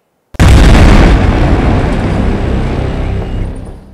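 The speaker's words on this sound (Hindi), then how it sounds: "सुबह सुबह एक धमाके और धुएं के गुब्बार ने दिल्ली को बेचैन कर दिया।" A blast in Rohini, Delhi, erupts as a sudden loud boom after a brief silence, then rolls into a long, dense roar that slowly fades over several seconds.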